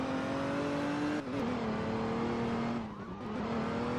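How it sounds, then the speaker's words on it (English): A car in Roblox Liberty County drifts with the parking brake: a loud, steady engine drone with a strong humming tone that briefly dips and wavers twice as the car slides. "Drift with parking brake."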